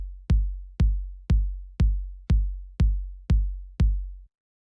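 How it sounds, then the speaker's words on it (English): A short, tight, soft kick drum sample for minimal house, eight evenly spaced deep thumps with quick decay, alone and steady like a four-on-the-floor pulse. "So the next thing we have here is the kick, which sounds like this."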